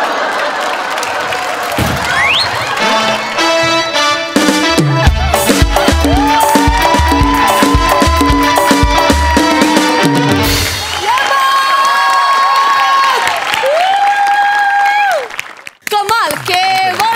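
A studio audience gives loud, sustained applause and cheering after a comedy sketch, with music and whoops mixed in and a voice speaking over it, before it cuts off abruptly near the end.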